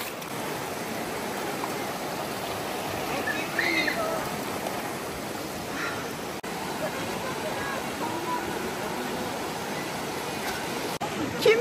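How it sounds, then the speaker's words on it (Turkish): A stream rushes steadily while someone wades along its bed on a waterfall hike, with a constant broadband wash of flowing water close by and a few faint splashes and knocks. "Derenin içinden gidiyoruz."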